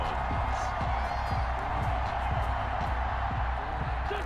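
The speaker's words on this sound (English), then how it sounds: "this crowd loves it as their guys hold on the opening drive" A stadium crowd in the Madden NFL 21 football video game cheers as a steady, broad roar behind the field sounds, holding an even level throughout.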